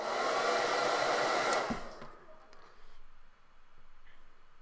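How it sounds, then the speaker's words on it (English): A hair dryer blows loud and steady while drying paint on a Dark Eldar miniature, then cuts off after under two seconds, leaving quiet room sound. "let's hit it with a hairdryer again."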